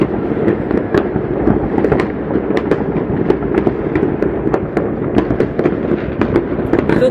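Fireworks for New Year 2022 go off nonstop, a dense crackle of pops and sharp bangs at an even, busy pace, loud and fairly near, with no talking.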